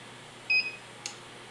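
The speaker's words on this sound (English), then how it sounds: "it'll beep at you, and now you're ready to print" A 3D printer gives a single short, thin electronic beep after extruding filament, followed by a faint click in a quiet makerspace room.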